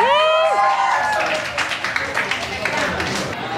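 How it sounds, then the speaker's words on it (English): A gathering applauds for Kuya June, a loose patter of clapping rising after a sung or whistled tone, moderately close and continuing with scattered voices in the crowd. "Let's give a round of applause for Kuya June."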